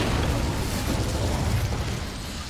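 Incendio fire spell being cast in Hogwarts Legacy, a dense fiery burst with a deep, rumbling low end that stays loud and steady for the whole moment, with no talking over it.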